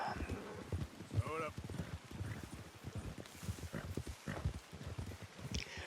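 Horse hooves clip-clop steadily in a video game, with a whinny rising partway through, all heard beneath continuous talking.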